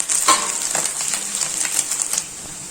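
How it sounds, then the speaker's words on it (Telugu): Chicken fried rice with egg, carrot and capsicum is stir-fried in a pan: a loud, steady sizzle with repeated scraping and clattering strokes of the spatula, close up and with no talking. "ఈ క్యాప్సికమ్ ముక్కలు ఇవన్నీ బాగా కలిసేటట్టు కలుపుకోవాలి"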